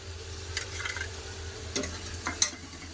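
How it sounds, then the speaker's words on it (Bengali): Spice paste of ground coriander, cumin and water-mixed masala fries in a pan for a Bengali fish-head ghonto. It gives a faint, steady sizzle with a few soft stirring scrapes and clicks, and no voices. "জল মশলা ভালো করে কষে নিয়েছে"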